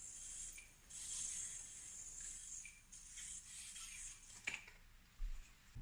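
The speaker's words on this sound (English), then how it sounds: "This is the finger grind test for the variant." Finger grinding across the surface of an Antidote X PLSTC variant shoe, a faint, close, dry rubbing hiss that runs steadily with a few small scrapes.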